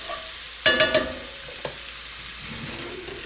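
Shallot and garlic sizzle steadily in a skillet, with a few quick clinks of a stirring utensil near the start over a constant frying hiss.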